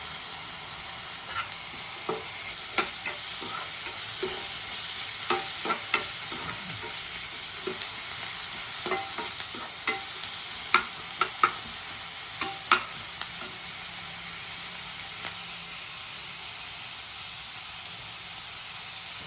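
Capsicum roasts in a frying pan for an egg bhurji, giving a steady hissing sizzle with repeated scraping and clacking stirring strokes throughout and no voices.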